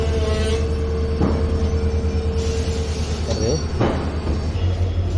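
Passenger special train at Chamarajanagar railway station, a steady low rumble of the rail car with brief wheel or brake squeals rising twice, close and continuous, with faint voices nearby.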